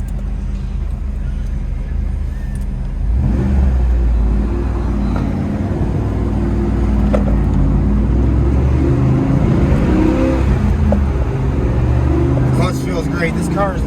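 A 1997 Pontiac Trans Am accelerates through its six gears, a loud steady engine rumble building from the cabin with rising and falling pitch across shifts, no talk over it.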